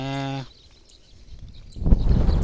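A buffalo gives one short, deep, droning call up close, then it goes quiet before a rough rumbling noise builds up.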